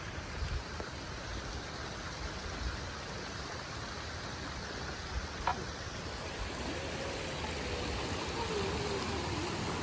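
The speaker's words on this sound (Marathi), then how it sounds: "खळखळ असं पाणी वाहत" Water of a stream flowing and gurgling in the Konkan countryside near Chiplun, a steady broadband rush that stays even and fairly faint throughout with no voices.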